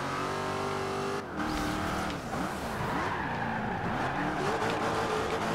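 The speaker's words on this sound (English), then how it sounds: "That was not intended to be a drift. I actually lost control of my vehicle." Car losing control and drifting in the racing video game Forza Horizon 2: the engine revs and drops in pitch, tires squeal and skid with wavering tones, a brief cut in the middle, fairly quiet in the mix.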